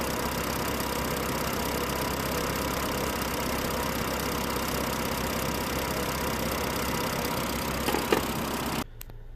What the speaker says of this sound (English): the engine is now running for about 20 minutes or so